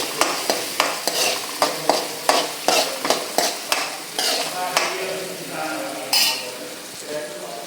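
Onions frying in a pan are stirred with quick, regular spatula strikes that clink against the metal over a bright sizzle, then the stirring loosens into a continuous crackling fry.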